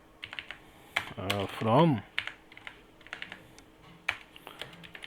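A SQL command is typed on a computer keyboard in a quick, close run of key clicks. Someone speaks Hindi briefly over the middle of the typing.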